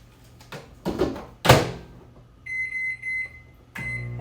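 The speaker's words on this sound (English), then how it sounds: "I'm going to microwave my pork here." A microwave oven heating pork: its door thumps shut, a couple of button presses are heard, and then a repeated electronic beep tone sounds before another clunk, all fairly close.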